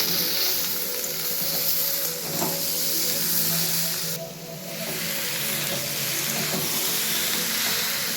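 Chicken being lightly fried in a pan together with fried vegetables, giving a loud, continuous close sizzle with a brief dip partway through, no talking.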